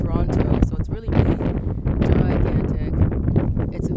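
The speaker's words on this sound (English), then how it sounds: "Very windy, so I'm gonna have to speak closely to the microphone" Strong wind buffets the microphone in loud, continuous low rumbling gusts, with a voice talking underneath.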